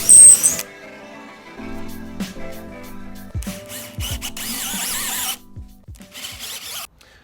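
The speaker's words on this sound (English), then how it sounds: "Then stack drill the bolt holes." A drill whines in several short bursts while stack drilling bolt holes to mount a woodworking bench vise, spinning up and down close by with brief pauses and faint handling noises between runs.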